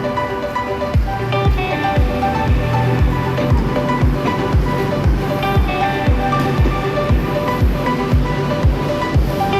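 Sea waves wash onto the beach at Bang Saray near Pattaya in a steady, loud surf roar with no voices, accompanied by a regular series of low thumps.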